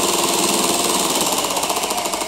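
An electric hand mixer whips cold yogurt cream in a bowl to churn homemade butter, giving a loud, continuous buzzing motor drone with a fast, even flutter from the beaters throughout.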